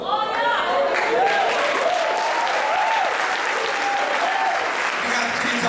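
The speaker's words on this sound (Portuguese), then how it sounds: "Aplauda Jesus por Deus." Church congregation at a spiritual warfare seminar applauding, dense steady clapping throughout with a voice speaking and calling out over it and a faint tone in the background.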